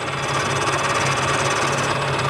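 A homemade lathe driven by an outboard motor runs at about 1,000 RPM, giving a steady, loud, close engine drone with a continuous mechanical rattle and no pauses.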